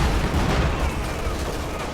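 Battle gunfire from the strategy game Company of Heroes, a dense continuous rattle of shots and muffled booms blending into a loud, steady roar of combat.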